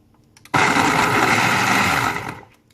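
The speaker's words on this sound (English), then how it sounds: "Put the blender on. And I'm choosing the chop mode." A kitchen blender on chop mode pulses through raw cauliflower, starting abruptly with a loud, dense grinding whir that holds for about a second and a half before winding down.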